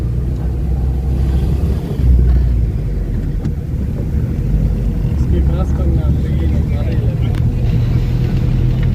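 Car driving on a road near a market in Bangladesh during a driving lesson, a steady loud low engine and road rumble throughout with people talking over it.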